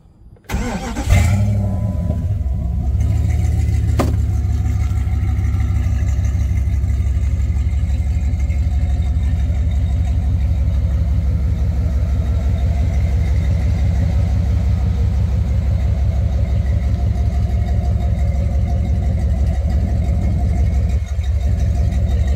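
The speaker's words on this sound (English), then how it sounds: "If you didn't watch the other video where I built that exhaust a week or so ago, you'll get to hear it now." A 1998 Jeep Grand Cherokee 5.9 V8 with a custom-built exhaust cranks over and fires up, then settles into a loud, steady, deep rumbling idle that runs unbroken for about twenty seconds with no voices.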